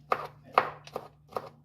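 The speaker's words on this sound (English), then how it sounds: "mince them down, mince them babies down, chop, chop, chop." A knife chops garlic cloves on a cutting board for garlic soup: four crisp, separate strikes in an uneven rhythm, close and fairly quiet, with no talking.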